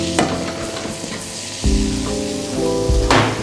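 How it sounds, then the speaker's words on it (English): Leaves dropped into foaming butter sizzle loudly in a close pan, a bright crackling hiss with soft stirring knocks and a couple of sharper thumps. "literally just drop the leaves into that foaming butter"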